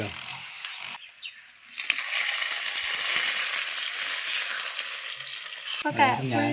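Chilies fry in hot oil in a village kitchen, giving a loud, steady, close sizzle that bursts in after a quieter start, carries on for several seconds and then cuts off abruptly.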